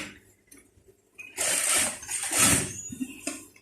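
A domestic sewing machine stitches a long straight run along a side seam of a long-sleeved shirt, fitted with an edge-guide presser foot; it comes in as a steady close mechanical whirr after a quiet start, with short pauses.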